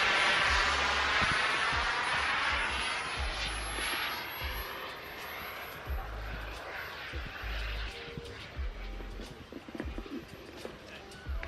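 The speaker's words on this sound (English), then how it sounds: "Let's just let him take off because they're a little bit noisy and you can't hear what he's saying." A propeller aircraft taking off at a wing show roars loudly up close, its engine tone rising and then fading as it moves away over a few seconds, with low rumbling and faint voices underneath.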